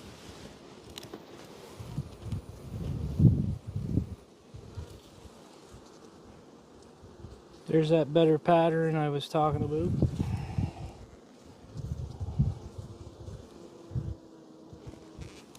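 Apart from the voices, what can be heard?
honey bee drones buzzing on the comb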